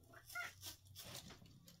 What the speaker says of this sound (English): Oh, here's my cat.